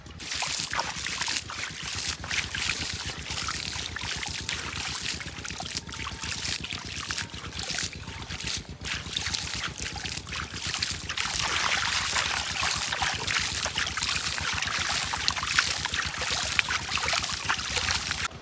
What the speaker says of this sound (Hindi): जो जो जगह रहती है अब हाथ से ही पानी का छिड़काव कर देते हैं इसके ऊपर